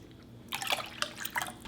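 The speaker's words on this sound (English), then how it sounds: "I will add half cup water." Half a cup of water is poured into a pot for potato dumpling soup, producing a short, faint run of splashing and trickling that lasts about a second.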